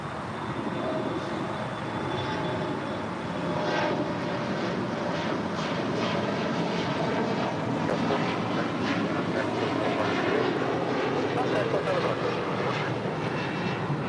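SkyWest-operated Delta Connection regional jet at LAX, a steady broadband engine roar holding at moderate level throughout, with faint voices in the background.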